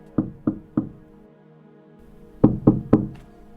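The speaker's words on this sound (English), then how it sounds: "He knocked softly, then louder." Knuckles rap on an apartment door, three soft knocks in an even rhythm, a pause, then three louder, sharper knocks, close and with no other sound.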